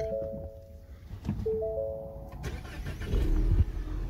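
A 330 hp Ford Mustang engine cranks and catches, settling into a low rumbling idle after a few electronic chimes, fairly quiet and close by.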